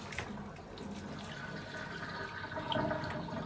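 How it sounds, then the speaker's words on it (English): Bath water drains away while a cat is washed, a quiet, steady running and gurgling flow with occasional splashes that swells slightly toward the end, with no talk. "We take out water so he understands that the water is going down"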